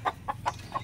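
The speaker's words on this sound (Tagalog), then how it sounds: "Ang laki niya, oh. Ang laking manok." A large hen clucks four times in quick succession, short and close, against a low background hum.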